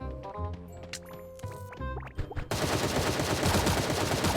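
Gunfire in the cartoonish battle-royale video game Sausage Man: scattered game sounds and tones give way to a dense, continuous rattle of rapid shots that runs loud to the end.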